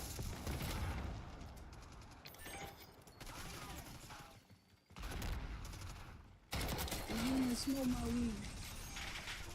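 Video game firefight in which rapid gunfire and bursts of automatic weapon fire crackle through a dense, continuous battle mix, fairly faint and steady, with brief lulls between volleys.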